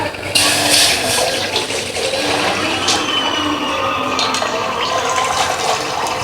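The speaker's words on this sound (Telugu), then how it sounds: "మనమైతే ఇప్పుడు ఫిల్టర్కి అయితే నింపుతున్నాం" Water pours steadily into a household water filter, a loud continuous gushing splash with small clinks, with no voices.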